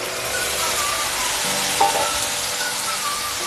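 Goat blood sizzles steadily in a hot pan with ginger, garlic and garam masala, a dense, even frying hiss with a brief louder stir near the middle and no voices.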